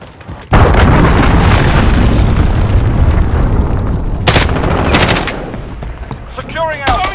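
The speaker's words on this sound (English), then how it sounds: "Enemy cruise missile incoming." A cruise missile strike in Call of Duty: Modern Warfare multiplayer lands with a sudden heavy blast, then a long roaring rumble. Sharp gunfire bursts cut through the rumble, and faint voices come near the end.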